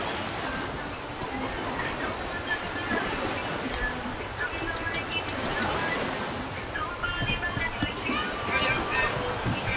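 Steady surf washes along a beach in Lapu-Lapu City, a continuous broad rush of waves with wind buffeting the microphone throughout.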